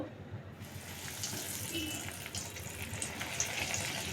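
Bread-crumb-coated vegetable chops fry in hot oil, giving a steady, soft, hissing sizzle that holds evenly throughout at low volume.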